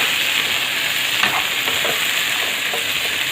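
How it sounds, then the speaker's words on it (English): Chopped coriander, mint leaves and green chilies sautéing in a pan for palak rice, a steady close sizzle with a few soft stirring scrapes. "nicely saute"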